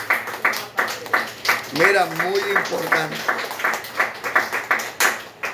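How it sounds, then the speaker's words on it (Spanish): Rhythmic clapping from a church congregation on a Sunday morning, steady repeated hand claps at a moderate pace, with someone speaking briefly over them. "Un aplauso al Señor nuestro Dios en esta hermosa mañana."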